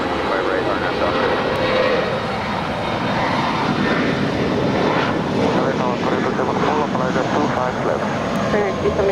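A Delta jet takes off from runway 25 right at LAX with a loud, sustained engine roar that builds and fills the air, while radio voices talk over it.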